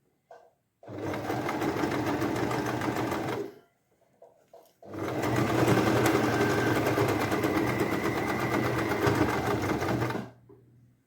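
Sewing machine stitching a silk skirt, running in two long steady whirring bursts of rapid needle action separated by a short pause with small handling clicks.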